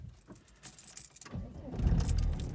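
A diesel Audi A4 B5 with a 1.9 TDI AFN engine starts from cold the morning after an injection pump replacement: a brief clatter of keys, then the engine catches at once and settles into a loud, steady rumbling idle.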